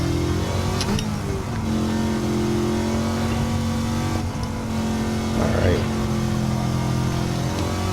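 A supercharged 1,000-horsepower Chevrolet C8 Corvette engine roars steadily up close, rising in revs with a couple of surges, while a voice talks over the engine noise.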